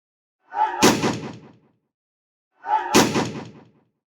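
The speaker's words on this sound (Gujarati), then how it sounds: "બંદૂકને હવામાં ફંગોળતા આવતા રમેશે લોકોના ટોળાની વચ્ચે ફાયરિંગ કર્યું." Two loud, sharp gunshots ring out about two seconds apart, each with a short echoing tail, fired into a crowd during a village clash in Banaskantha, with no voices.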